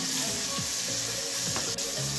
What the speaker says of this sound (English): And now let's stir fry it.